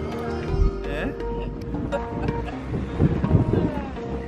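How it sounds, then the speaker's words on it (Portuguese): Strong wind buffets the microphone on a hilltop on São Jorge island in the Azores, a continuous low rumble with gusts, while people talk nearby. "Está muito vento."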